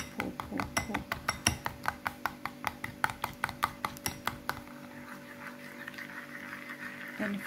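A simple spoon beats scrambled eggs in a bowl at home, each clink against the bowl ringing out in a quick, steady series for several seconds before it fades into quieter stirring.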